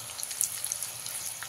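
Shredded potatoes and curry leaves fry in hot oil, a soft continuous sizzle broken by scattered small crackles and pops, quiet and close.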